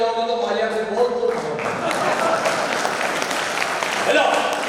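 Audience applause at a seminar culture event, steady broadband clapping running under loud singing and voices throughout.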